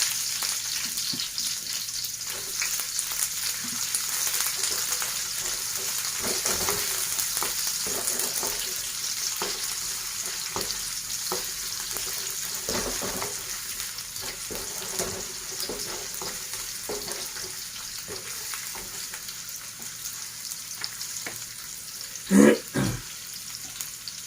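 Garlic and onion fry in a pan, with a continuous close sizzle and scattered soft stirring knocks, plus one sharper clatter near the end. Nobody speaks.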